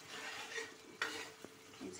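Spice paste frying in a pan for a paneer and lentil dish, with a steady soft sizzle and a few sharp stirring scrapes of a utensil against the pan, close and without voices.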